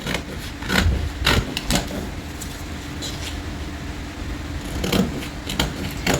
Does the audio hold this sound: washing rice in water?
no